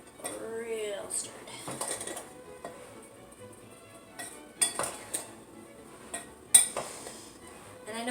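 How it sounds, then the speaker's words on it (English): A spoon stirs raisins into scone batter in a mixing bowl, giving close, intermittent scraping and several sharp clinks against the bowl amid quiet kitchen handling. "1 cup of raisins, and you're just going to stir it in to the mixture. Get it real stirred."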